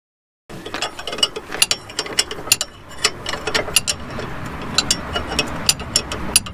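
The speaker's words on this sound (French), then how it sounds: "il faut enlever ici le support d'étrier qui se dévisse par ici et par ici" Ratcheting wrench clicks while unscrewing the brake caliper bracket bolts on a Ford Transit MK3 during a pad and disc change, a close run of sharp metallic ticks in uneven bursts over steady background hiss.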